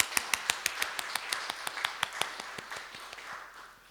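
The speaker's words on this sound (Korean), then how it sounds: "우리와 함께 하시는 하나님께 우리 감사의 박수를 올릴까요?" A Korean church congregation at an early-morning service claps in unison, a steady rhythmic series of sharp, evenly spaced claps that fade slightly toward the end.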